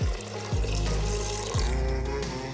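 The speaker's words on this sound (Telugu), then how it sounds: "ఇప్పుడు 1 గ్లాస్ వాటర్ వేసుకోవాలి." A glass of water pours into a cooking pot of bottle gourd dal with turmeric and chili, a close gurgling splash with rising filling tones that repeat in waves.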